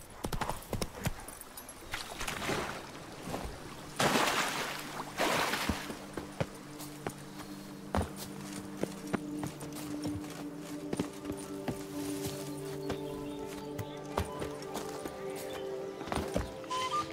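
A horse gallops in The Witcher 3: Blood and Wine, its hoofbeats a rapid, rhythmic clip-clop that rises and falls, with game sounds layered over it.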